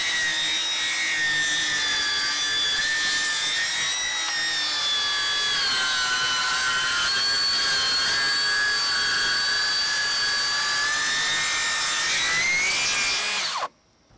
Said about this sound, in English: if you are cutting through plywood or something like this, well, it will shoot sawdust out the side as well